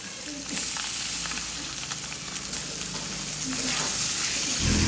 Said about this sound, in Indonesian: lalu masukkan ikan ke dalam wajan